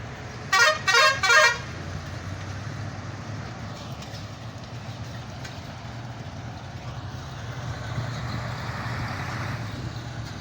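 Heavy road traffic in DHA Phase 5, Islamabad, opening with a loud burst of rapid honking from a vehicle horn, then a steady rumble of passing vehicles.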